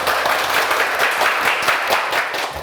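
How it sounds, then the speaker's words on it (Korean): A room full of people claps loudly and steadily at a teachers' event, dense applause continuing throughout the short stretch before tapering slightly at the end. "박수 한번 크게 한번 칠까요?"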